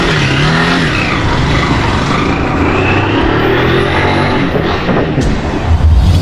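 A motorcycle stopped during a police patrol roars to life after several attempts and revs loudly and steadily throughout, close to the microphone, with a brief burst of extra throttle near the end.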